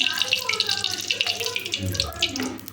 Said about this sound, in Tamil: கொஞ்சம் எண்ணெய் ஊற்றிக்கிறோம்